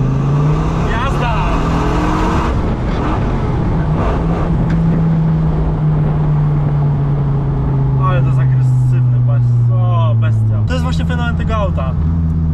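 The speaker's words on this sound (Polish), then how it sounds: "Zobacz, jak to przyspiesza." A Dodge Viper accelerating hard, its engine note a loud sustained drone that climbs steadily and shifts once near the end, with people talking and reacting over it throughout.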